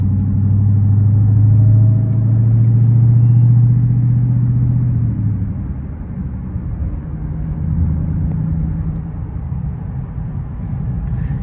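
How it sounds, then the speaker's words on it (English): A Honda car's exhaust rumbles steadily from behind, a low loud drone that eases off midway, with a soft gurgle and faint pops beneath it and no talking. "There's a little gurgle pop back there."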